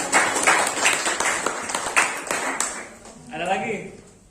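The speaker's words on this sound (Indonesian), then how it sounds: "Tepuk tangan." A classroom group claps together in a thick burst of applause that fades after about three seconds, then a voice starts speaking.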